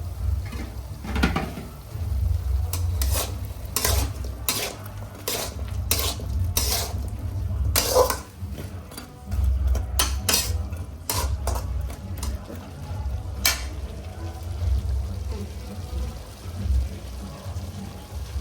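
Spices being stirred into cabbage gobi Manchurian in a pan, giving repeated scraping and clinking of a spoon against metal, with a low steady hum underneath throughout.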